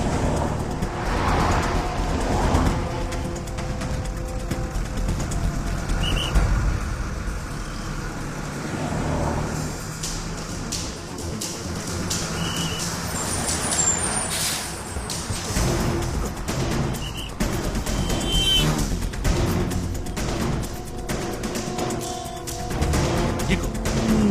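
A bus engine running in a busy street scene from the Telugu film 7th Sense, a steady low motor rumble mixed with traffic noise and occasional passing vehicles.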